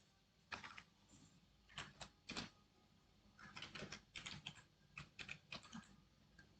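Clicky bursts of typing on a computer keyboard while writing HTML code, short irregular runs of keystrokes with pauses between, close and fairly quiet.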